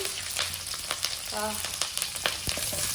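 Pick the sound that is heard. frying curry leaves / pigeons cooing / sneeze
frying curry leaves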